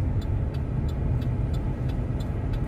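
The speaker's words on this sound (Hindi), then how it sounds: "जा रही है गाड़ी, खुद चल रही है" A car rolls along on its own with the engine apparently off, giving a steady low road rumble of tyres with faint periodic ticking and no voices.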